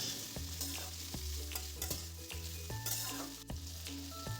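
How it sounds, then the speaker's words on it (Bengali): Chopped vegetables for shukto sizzle and fry in hot oil in a pan, with steady broadband crackle and repeated stirring scrapes at an even rhythm, close and alone with no voices. "এক মিনিট এগুলো তেলের সাথে ভালো করে ভাজবো।"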